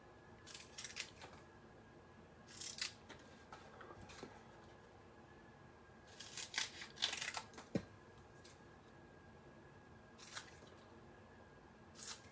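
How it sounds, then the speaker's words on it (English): Several short bursts of paper being snipped with scissors, coming in irregular clusters over a quiet background with no talking. "I do like to use bigger scissors than my snips when I cut this."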